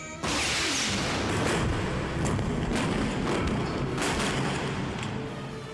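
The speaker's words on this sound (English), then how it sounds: "The Stealth is being shelled by the frigate." Film battle effects of a frigate shelling a stealth ship: continuous roaring barrage of booms and blasts with sharp bursts throughout, loud and dense.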